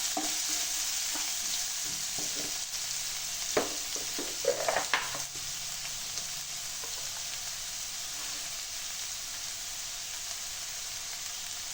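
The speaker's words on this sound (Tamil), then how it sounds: "வெங்காயத்தை நல்லா வதக்கிடலாம்." Onions sautéing in a pan for tomato thokku, a constant bright sizzle throughout with a few brief scrapes and clinks of a spoon stirring near the start, no talking.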